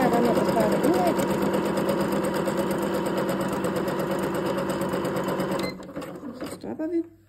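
A Jenco Exclusive sewing machine runs steadily while stitching a zigzag pattern, a close, loud mechanical whir that continues for most of the stretch before cutting off abruptly near the end, leaving faint handling noises.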